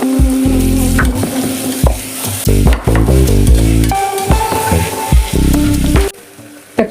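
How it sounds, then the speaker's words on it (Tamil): Tomatoes sautéing with ginger garlic paste in a pan, loud close sizzling broken by clattering spoon-on-pot scrapes and knocks, with a ringing metallic tone partway through. "இப்போது தக்காளியை ஆட் பண்ணிக்கலாம்."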